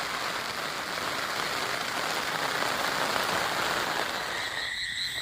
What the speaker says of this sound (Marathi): लयच जोरात आलाय पाऊस.